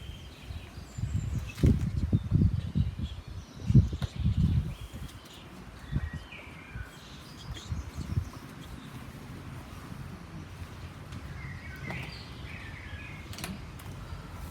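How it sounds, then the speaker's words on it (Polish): Birds sing outdoors with scattered chirps and tweets while trees rustle, and soft thumps and handling noise sound close by early on. "Jest dobry klimat, bo pięknie ptaszki śpiewają, szumią drzewa"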